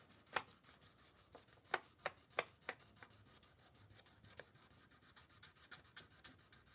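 A kitchen knife is drawn across a 2000 grit whetstone in a series of faint, uneven scraping strokes, some sharper and louder than others, with no talking.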